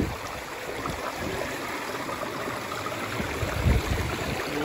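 Steady rushing of a river stream at a crossing on the hike to a Scottish bothy, a broad continuous wash of flowing water close by, with a brief louder splash near the end.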